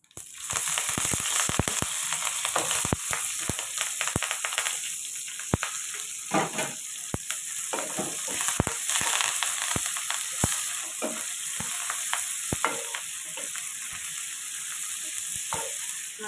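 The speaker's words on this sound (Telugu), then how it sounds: "ఇప్పుడు మనం ఆనియన్స్ వేసుకుందాం ఆనియన్స్ కరివేపాకు రెండు" Onions and curry leaves fry in a kadai, a steady loud sizzle running throughout with frequent sharp crackles and pops scattered across the whole stretch, close up and with no voices.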